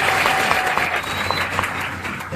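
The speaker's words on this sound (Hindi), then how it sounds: "आप अपने लिए एक बार फिर से ताली बजाइए" An audience at a Bihar Police physical test preparation session claps together in a dense, loud round of applause that keeps going, with faint crowd murmur underneath.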